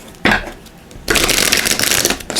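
Brisk shuffling of an oracle card deck, a short riffle followed by a longer, louder run of rapid papery flutters, close up with no talking.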